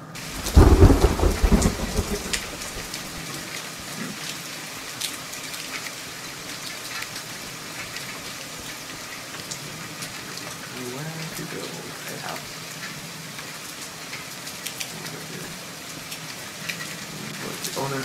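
Heavy rain and rolling thunder in the survival game The Forest, a loud crack and rumble at the start giving way to a steady, dense downpour that continues throughout.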